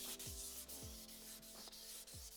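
Fine 2500-grit sandpaper rubs against lacquer on a repaired guitar headstock, a soft steady scratching with rhythmic strokes, close and quiet, no voices.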